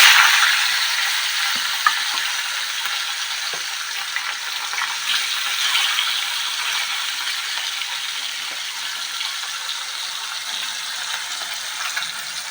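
Fish pieces fry in hot oil in a kadai, a dense, steady sizzle that starts loudest and settles into a constant crackle with occasional small pops, no one talking.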